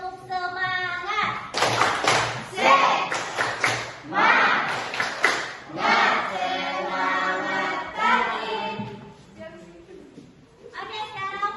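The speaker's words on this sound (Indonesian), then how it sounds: "Coba dulu tepuk semangat." A classroom of students performs a rhythmic spirit clap, with bursts of patterned hand claps mixed with shouted group voices, loud and close, then a pause before a final burst.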